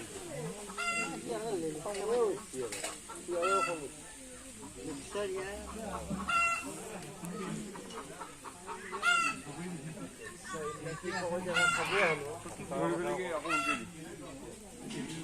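Chickens cluck and a rooster crows nearby, with ducks and other fowl honking, while people talk over the busy barnyard sounds.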